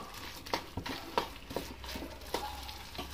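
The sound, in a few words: stirring semolina and potato while cooking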